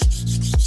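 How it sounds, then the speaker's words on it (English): Hand sanding of wood with 180 grit sandpaper during cabinet door work, heard as two close, loud rubbing strokes with a short break between them and no voices. "So I'll just give it a few passes with some 180 grit."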